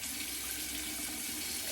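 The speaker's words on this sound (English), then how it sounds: "I'm going to add a little bit more water" Water runs steadily from a bathroom tap during shaving, a continuous even hiss close by with no breaks and no voices.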